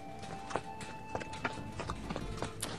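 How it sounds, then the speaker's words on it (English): Hooves clip-clop in a steady, fairly quiet rhythm as a horse travels in the video game Expeditions Conquistador, with faint tonal game sounds underneath. "Ride, horse, ride."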